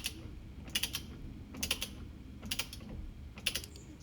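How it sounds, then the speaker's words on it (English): A torque wrench ratchets as a steering wheel bolt on a 2022 Tesla Model Y is tightened, four evenly spaced bursts of crisp, close clicking over faint background hum. "Go ahead and tighten that until you torque it to specification."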